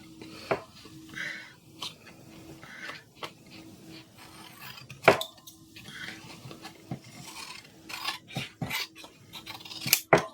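Scissors trim paper for a journaling banner, making scattered close snips and rustles over a faint hum, with a few louder cuts near the middle and end.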